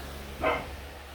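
A single short dog bark, fairly faint and a little distant, over a low steady hum.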